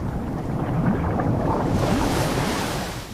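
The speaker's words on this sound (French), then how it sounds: "la forte houle et les gigantesques vagues qui viennent s'écraser sur le rivage" Heavy ocean swell and huge waves crash onto the rocky shore of an Atlantic island archipelago, a continuous loud roar of surf with wind noise and no distinct individual breakers.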